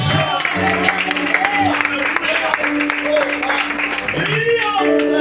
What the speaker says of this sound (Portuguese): Só quem pode aplaudir esse Deus.